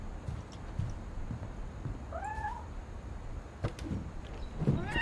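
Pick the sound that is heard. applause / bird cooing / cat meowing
cat meowing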